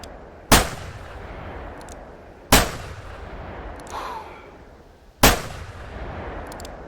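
A .30-06 Stutzen rifle fires in a hunting video game: three sharp, loud shots spaced a couple of seconds apart, each followed by a rumbling echo that fades out.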